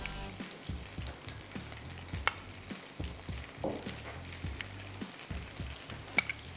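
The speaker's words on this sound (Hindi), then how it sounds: "थोड़ा सा हल्का सा फ्राई करना है, रिफ़्रेश करना है बस, पकाना नहीं है" Chapli kabab lightly frying in a pan over low heat, a soft continuous sizzle with a regular knocking rhythm of stirring or pressing and a few sharper clinks, close and quiet, no talking.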